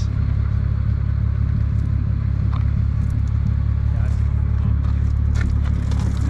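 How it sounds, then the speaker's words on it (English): A Toyota Supra engine runs at a steady idle nearby, a deep continuous rumble with an even low throb that holds for the whole stretch while voices murmur faintly in the background. "Mike's got the fucking Supra going"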